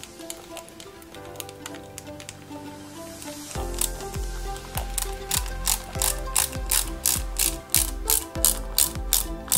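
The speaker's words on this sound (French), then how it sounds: "on y met 4 vis CM pour maintenir tout ça proprement" Screws are driven by hand into the shoulder of a RoboCop cyborg model kit, with a close ratcheting tool clicking in quick repeated bursts that grow more regular and pronounced partway through.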